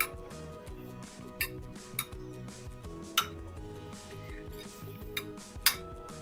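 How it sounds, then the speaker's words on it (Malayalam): A spoon mixes chickpea pizza filling seasoned with salt and pepper in a bowl, giving faint, scattered clinks and taps against the dish at irregular intervals over a quiet, steady background. "എല്ലാം കൂടി ഒന്ന് മിക്സ് ആക്കിയിട്ട് നമുക്കിത് മാറ്റി വെക്കാം."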